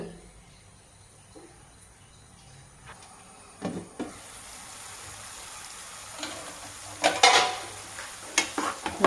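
A masala mixture for bitter gourd gojju is stirred in a pan, soft scraping and clinking of a utensil over a faint low sizzle, growing busier and louder in bursts toward the end.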